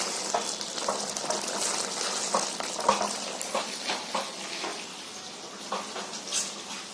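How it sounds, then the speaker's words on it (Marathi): Konkani-style mutton frying in a pan over a high gas flame, a steady bright sizzle with scattered pops and occasional stirring scrapes, close and continuous throughout. "आता मी गॅस फास्ट केलाय आणि आता चांगलं फ्राय करून घेते."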